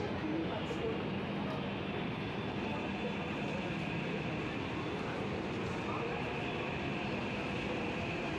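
Metro train running through Ameerpet station in Hyderabad, a steady loud rumble and hiss of rail noise filling the whole stretch with a busy crowded platform ambience.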